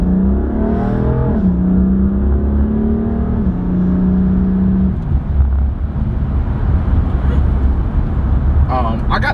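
BMW with a Bootmod3 GTS transmission tune set to level 2 pulls hard at full throttle, its engine tone climbing steadily then shifting into a broad, loud roar under the cabin, with a voice talking over it.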